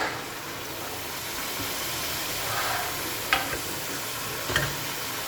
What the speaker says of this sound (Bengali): কেটে টাকা পালং শাক, আলু, বেগুন, সিম একসঙ্গে আমি দিয়ে দেবো কড়াইয়ের মধ্যে।